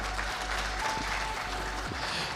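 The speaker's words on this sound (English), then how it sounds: "Let's give him a round of applause" An audience at a national ICT summit applauds, a dense, steady burst of clapping that holds evenly for a couple of seconds.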